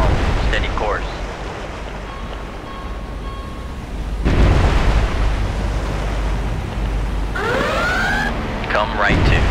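Tomahawk missile launches from a destroyer's vertical launch system in the naval game Cold Waters, a loud sustained rushing roar that surges partway through, with radio-style voice callouts over it near the end.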